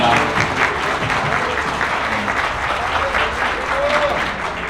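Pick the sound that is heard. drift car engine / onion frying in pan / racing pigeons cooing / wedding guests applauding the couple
wedding guests applauding the couple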